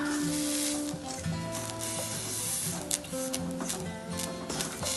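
Grated coconut, curry leaves, turmeric and fennel seeds fry in a pan for chicken curry, giving a steady, close hiss and sizzle with small crackles throughout.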